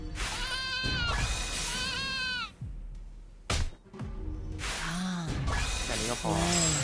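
Sheep in the video game Athenion bleat in repeated wavering cries, several calls close together at the start and again near the end, with a few short game sound effects in between.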